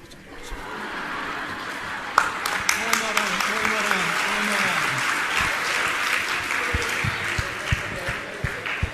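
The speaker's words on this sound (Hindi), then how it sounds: "कितना बढ़िया तालियां बजा रहे हो आप" Audience at a spiritual discourse clapping steadily in a dense, sustained round of applause, with some chuckles and a voice speaking over it.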